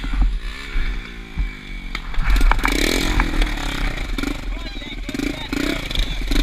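A three-wheeler motorbike on a hillclimb sputters and revs unevenly, its engine note surging and faltering as it keeps dying out, with voices and scraping mixed in nearby.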